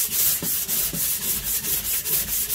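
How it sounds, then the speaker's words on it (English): Hand sanding on the wood of a homemade thin-bodied acoustic guitar makes quick, rhythmic rasping strokes, about four per second, close and fairly loud with no talk. "Now, what we got to do now is a little more hand sanding."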